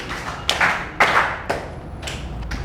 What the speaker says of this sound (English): Clap your hand for him.